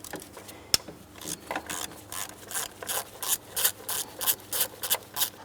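8mm socket ratchet loosening a valve cover bolt on a 2008-2016 Chrysler Town & Country, a sharp click followed by a series of quiet, rhythmic ratcheting strokes that grow slightly louder, close up with no talk.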